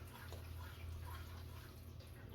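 A small splash of milk is poured into a pan of gravy for biscuits and gravy, a soft, faint liquid trickle and bubbling heard close up for a couple of seconds, with no speech.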